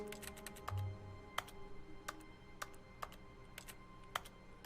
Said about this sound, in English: This is me pressing E on my keyboard, by the way. It makes this typing sound.